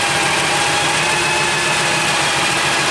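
Supercharged AMC Javelin engine idling close by in a steady, loud, even rumble with faint whine above it, no voices over the running motor.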